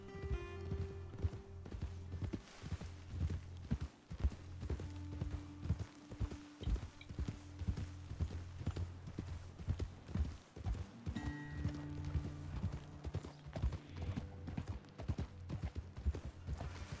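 Horse hooves clip-clop steadily across a trail in Red Dead Redemption 2 as riders travel uphill, the rhythmic plodding continuous over a low droning game score, with an occasional faint whinny.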